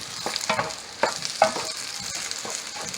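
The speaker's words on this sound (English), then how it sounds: "Scramble this all up together" Eggs scramble in melted butter in a pan over medium heat for breakfast fried rice, a loud close sizzle with repeated spatula scrapes and stirring strokes, no voices.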